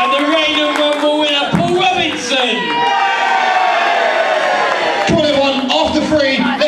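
A loud crowd at a professional wrestling championship match roars and cheers continuously, with shouts and occasional thuds rising through the din.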